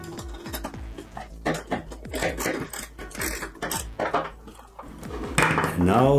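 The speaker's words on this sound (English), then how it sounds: "Now I take a washer, the pipe elbow, add another washer, and now at the end I use a self-securing nut." Metal washers, a pipe elbow and a self-securing nut clink and clatter as they are assembled into a leg mounting for a Halloween witch cauldron, with a run of close, irregular metallic taps and rattles alongside some talk.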